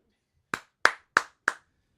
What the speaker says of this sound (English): I thought I was going to clap.